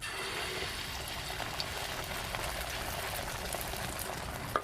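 Cooking oil boils and sizzles softly in a pan before eggs with wormwood are fried, a steady quiet bubbling hiss with a small click near the end.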